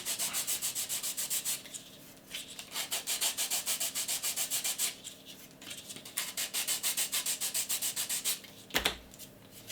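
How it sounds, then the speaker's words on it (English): Model kit parts for an Apollo 11 build are sanded by hand in quick rhythmic back-and-forth strokes, close and fairly loud, coming in bursts separated by short pauses, with one sharper knock near the end. "So just sand them back."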